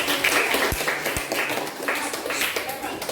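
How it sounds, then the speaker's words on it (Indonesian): A classroom applauds a student group for a quiz answer, a loose patter of hands clapping with a couple of sharp taps near the start, under background chatter from the students. "Tepuk tangan dong."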